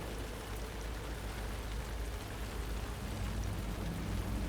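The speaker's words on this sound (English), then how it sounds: "this water, the rain, this is setting the tone" Steady, dense rain in the Alan Wake 2 video game, a continuous hiss of drops pattering on surfaces with a low rumbling undertone, unbroken and fairly loud throughout.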